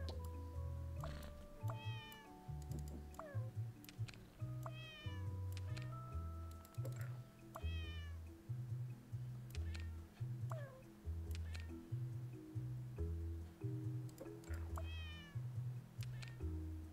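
A cat meows repeatedly, short and mid-length calls spaced every second or two, close by, over a steady rhythmic thumping loop of soft background music.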